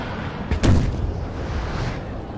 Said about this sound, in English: Run a cannonball up their length